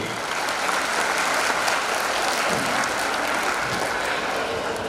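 A large audience at a school function applauds for teachers and parents, a dense, loud, continuous wash of clapping that holds steady from start to finish.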